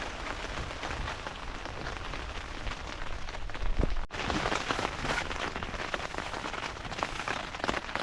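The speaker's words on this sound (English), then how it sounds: "It's still raining, so I'm thinking about packing up." Rain falling on a tent at a wild camp, a steady close patter of drops drumming on the fabric, dense and continuous throughout, with one brief sharp break partway through.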